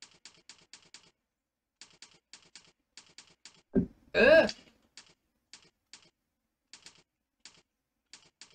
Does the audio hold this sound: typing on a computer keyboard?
yes